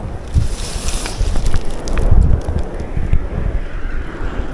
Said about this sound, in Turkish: Rüzgar iyice şiddetini arttırdı